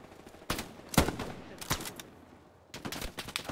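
Sharp bursts of gunfire ring out in the WWII shooter Hell Let Loose: a few loud single shots followed by a rattling volley, spaced irregularly with quiet gaps between them.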